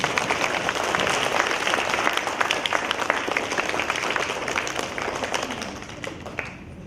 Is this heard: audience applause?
yes